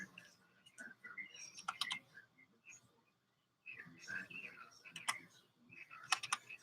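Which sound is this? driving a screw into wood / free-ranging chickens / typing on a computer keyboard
typing on a computer keyboard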